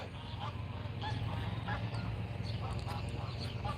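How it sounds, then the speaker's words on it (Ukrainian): A flock of geese and ducks honk and quack continuously, a busy chorus of calls at moderate distance over steady outdoor background noise. "знову гуси."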